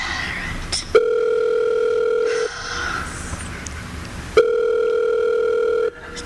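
A telephone rings unanswered in two long, steady electronic bursts separated by a pause, loud and close, with faint background noise between rings.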